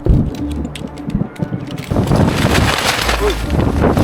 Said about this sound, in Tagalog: sobrang lakas ang hangin, paulan na